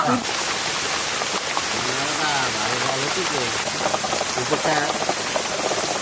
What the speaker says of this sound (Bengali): ওইদিকে বৃষ্টি পড়তেছে